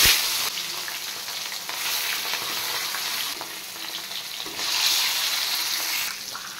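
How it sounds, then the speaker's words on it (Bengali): Katla fish belly pieces frying in hot oil in a home kitchen, a continuous loud sizzle that swells and eases as the pieces are turned and stirred. "এবার আমি কাতলা মাছের পেটিগুলো ভেজে দেব।"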